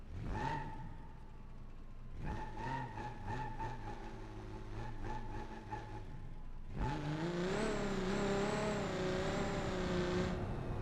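A V12 TDI Quattro car engine in BeamNG Drive, a steady whirring drone with rising and falling revs that swells louder and brighter in the final few seconds, playing alone.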